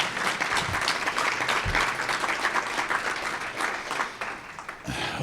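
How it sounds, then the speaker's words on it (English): An audience at a conservation awards ceremony claps in sustained, full applause, steady and fairly loud, with a few low thumps near the start and end but no talking. "Give all yourselves a round of applause."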